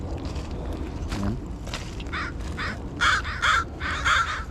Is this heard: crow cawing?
yes